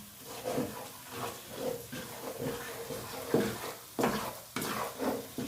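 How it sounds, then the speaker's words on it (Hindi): Spices and a tablespoon of salt sautéing in a pot for chicken yakhni pulao, a soft hiss and sizzle with repeated scraping stirs rising and falling, close and moderately quiet, no talking. "अब हम इसकी थोड़ी सी बुनाई करेंगे और साथ नमक भी शामिल कर देंगे 1 टेबल स्पून"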